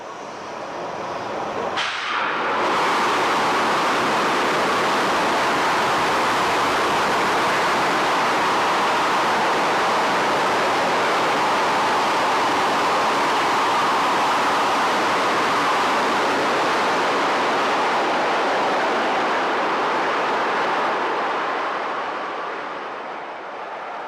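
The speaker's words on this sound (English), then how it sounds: "SpaceX conducted a purge test of the high-pressure gas system" A high-pressure gas system purge test at a launch mount vents as a loud, steady broadband hiss. It starts abruptly after a brief onset, holds for about twenty seconds, then tapers slightly at the end.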